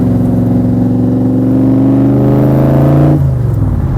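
A loud, deep Superformance Cobra sports car engine revs up steadily, its throaty roar climbing in pitch before dropping off sharply near the end, close and powerful.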